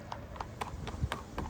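Horse hooves clip-clop in a steady walking rhythm, several distinct knocks spaced evenly, heard fairly close over faint background noise.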